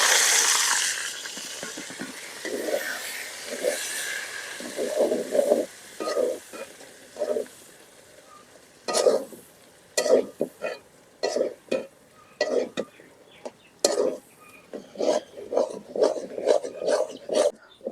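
Onion and garlic fried until reddish, then lentils and taro leaves added to the pan, give a close sizzle broken by bursts of stirring and scraping that come and go in an uneven rhythm.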